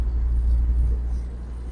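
1958 Mercedes 190SL with Weber carburetors driving on a road during a shakedown after a rebuild, a steady low engine rumble heard from inside, constant and fairly loud, with no talk.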